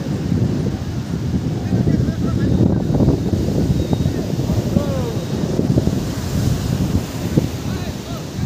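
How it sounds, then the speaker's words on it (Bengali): Morning sea wind and surf at Puri beach, heard from a boat on the shore: gusty wind buffets the microphone over a continuous wash of breaking waves. "সকালবেলা সমুদ্রের হাওয়া দারুণ লাগে"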